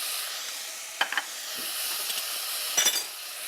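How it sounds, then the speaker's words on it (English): Rice and ginger paste are stirred in a hot pan, giving a steady bright sizzle with a few scraping spoon strokes near one and three seconds. No voices are heard. "Mix that in while stirring the rice."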